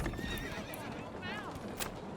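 Horses in a medieval village in Manor Lords whinny with wavering high neighs, two distinct calls over a steady bed of hoof clip-clops and ambient village noise, moderately close.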